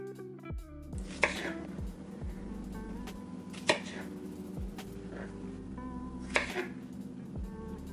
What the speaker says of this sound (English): 4 strawberries, which I'm gonna cut up right now